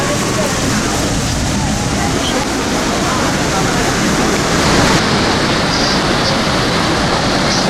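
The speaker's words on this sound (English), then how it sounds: "We're surrounded by falls." Roar of Niagara Falls near the Skylon Tower, a dense, loud, unbroken rush of falling water heard up close, with voices partly mixed into the steady wash.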